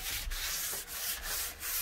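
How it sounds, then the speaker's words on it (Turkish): Sponge sandpaper rubbed against a PVC window or door frame, four quick rasping strokes in a steady back-and-forth rhythm, close and fairly quiet. "süngerli zımparadır bizim kullandığımız zımpara"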